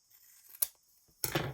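Scissors cutting a small scrap of paper for a junk journal: two crisp snips, the second longer and louder, close up in a quiet room.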